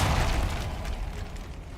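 Confringo fire spell from the Hogwarts Legacy video game bursting in a loud, sustained roaring explosion that stays dense and rumbling for nearly two seconds.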